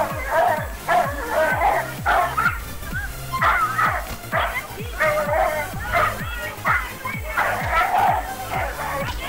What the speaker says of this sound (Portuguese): Se você ir no ponto vermelho, vai te dar o áudio da briga dos cachorros, né?